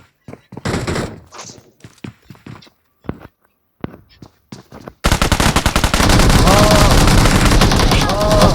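Gunfire in PUBG Mobile: scattered single shots and thuds at first, then sustained rapid automatic fire that takes over and stays loud and dense to the end, with someone talking during the early sparse shots.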